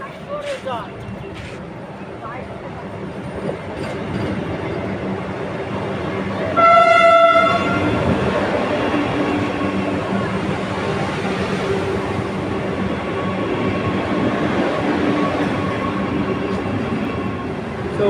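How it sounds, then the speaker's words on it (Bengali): Trains roll past a railway platform on the Chandpara route, a loud continuous rumble and clatter of wagons with a brief horn toot partway through, while people talk nearby. "দেখো এইদিকে ট্রেনগুলো দেখো অসাম ট্রেন।"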